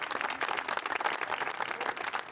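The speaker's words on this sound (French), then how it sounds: "Des applaudissements" Applause from an audience at an event in France, a dense steady patter of many hands clapping throughout, heard fairly close without speech.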